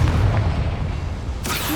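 The Confringo fire spell explodes in Hogwarts Legacy, a loud, dense boom with a rumbling low end that lasts under two seconds and ends in a sharper burst.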